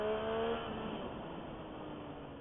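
A sport motorcycle ridden hard with the engine roaring and pulling steadily, loud wind and engine noise throughout as the pitch slides while accelerating.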